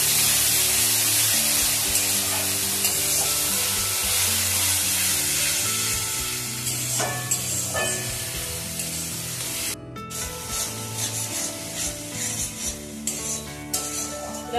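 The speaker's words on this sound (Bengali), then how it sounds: "মশলাগুলো আমি এবার কষিয়ে নেব।" Spices and grated tomato sauté hard in a pan for Bengali fish kalia made with katla or rui, a loud bright continuous sizzle with stirring scrapes, easing into softer bubbling and spatula strokes later.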